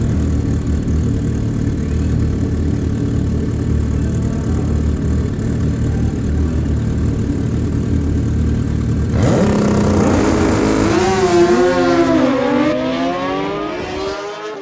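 Two drag-race motorcycles sit at a steady rumble at Maui Raceway Park, then launch hard off the line, their engines screaming up through the gears loud and close before the sound thins out.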